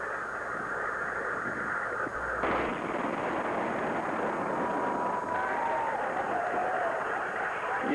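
A deep wartime explosion in Iraq bursts out a couple of seconds in and gives way to a sustained roaring rumble, with faint distant voices under the noise.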